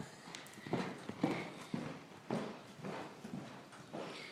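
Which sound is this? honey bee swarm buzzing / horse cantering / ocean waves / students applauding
horse cantering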